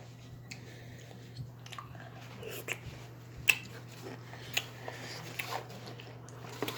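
Crunchy pickles being chewed close up, giving a quiet series of soft, irregular bites and squishy crunches over a steady low hum, with no talking.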